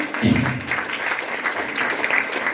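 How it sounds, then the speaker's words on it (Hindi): Brief audience applause at a gathering, a moderate burst of clapping with a short voice at the start, steady and fairly close. "जोरदार तालियां होनी चाहिए निर्मला जी के लिए"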